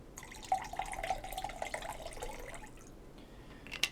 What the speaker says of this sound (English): Pour the liquid.